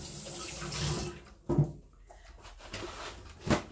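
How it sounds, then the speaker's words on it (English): Hands are washed under a running kitchen tap, a close, uneven water flow with splashy bursts as the hands move through the stream, with no talking. "let me wash my hands real quick while I start this"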